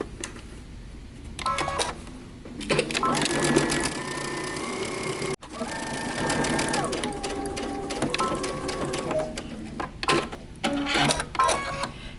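A sewing machine stitches a lining seam for a top in loud whirring runs separated by brief stops, with mechanical clatter and fabric handling between the stitching bursts.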